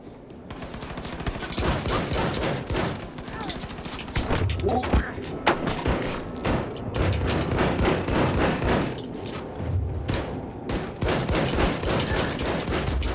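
Shotgun fire in the video game Wolfenstein: The New Colossus, with repeated loud blasts over a dense stream of constant in-game gunfire, booms and combat noise.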